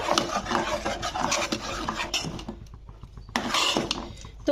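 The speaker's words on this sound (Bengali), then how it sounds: "পানি ফলটা দেওয়ার পরে কিন্তু তোমাদেরকে এরকম বারবার নাড়া নাড়তে হবে" A spoon stirs water chestnut payesh in a pot over medium heat, with repeated close scraping and rubbing strokes against the pot bottom in an uneven rhythm.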